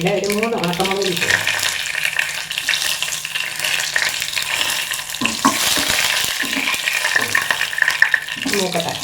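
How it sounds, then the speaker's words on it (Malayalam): Mustard seeds and three dried red chillies fry in hot coconut oil for a carrot thoran, giving a steady, fairly loud sizzle and crackle that runs throughout, with a brief voice near the start. "കടുക് പൊട്ടിയിട്ടില്ല, ഒരു 3 ഉണക്കമുളക് ഇട്ടു."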